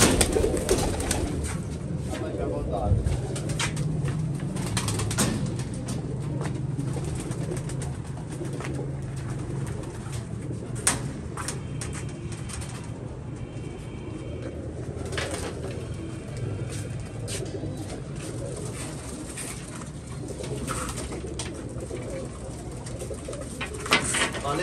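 Pigeons coo repeatedly in a cluttered space, with rustling, fluttering and background noise running continuously underneath.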